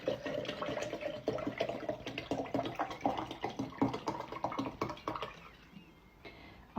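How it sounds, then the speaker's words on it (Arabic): Vinegar poured over Iraqi quick pickles, a steady splashing, gurgling stream for about five seconds that then tapers off to quiet. "نضيف عليه الخل."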